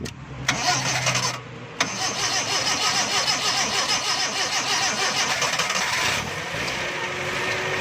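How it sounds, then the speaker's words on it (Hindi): A freshly rebuilt 1300cc 12-valve petrol engine in a Toyota Corolla cranks on the starter with a couple of brief bursts, then catches and settles into a steady, close, loud idle. "दोस्तों गाड़ी स्टार्ट हो गई है।"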